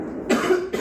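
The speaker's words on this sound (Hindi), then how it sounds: "परेशान हो गए ये खांसी से" A man at home gives a single short, rough cough with a harsh burst, followed by a brief trailing breathy rasp, close and moderately loud.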